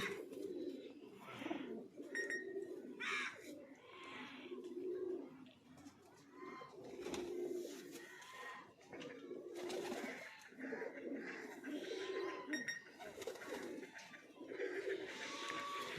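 Pigeons coo continuously in low, throaty, rolling calls, several birds overlapping, with faint background noise throughout.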